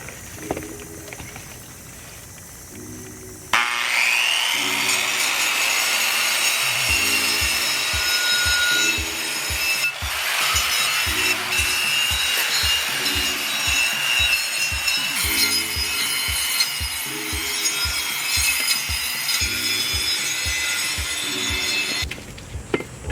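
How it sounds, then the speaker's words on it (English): Coarse, continuous rasping of sanding on a wooden sill, starting after a brief quieter lead-in and running steadily with a rhythmic back-and-forth pulse, close and loud. "so we're just gonna sand over here now."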